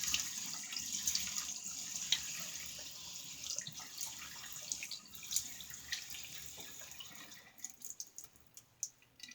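Tap water running into a sink while someone wets their face before a shave, a steady close splashing stream with small drips and splashes, no talking.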